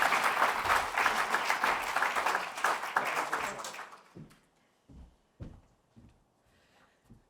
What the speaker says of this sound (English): please, a round of applause just to warm up the atmosphere here